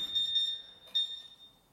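CO2 laser cutter water chiller beeping at startup: two thin, steady high-pitched electronic tones, faint and close, separated by a short gap, with no voices.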